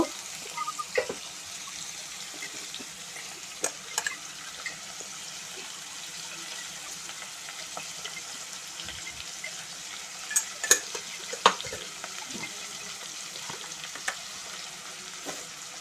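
Onion pieces fry with curry leaves, mint and turmeric in a kadai, giving a quiet steady sizzle with scattered ladle clicks.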